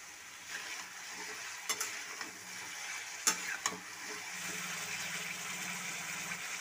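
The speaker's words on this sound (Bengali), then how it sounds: "লবণ আর হলুদটা দিয়ে আলুগুলোকে ততক্ষণ ভেজে নেব যতক্ষণ না আলুগুলোর গায়ে একটা হালকা লালচে কালার চলে আসে" Potatoes frying in oil with turmeric powder and salt for a Bengali aloo posto, a soft steady sizzle with a few sharp spatula knocks and stirring sounds.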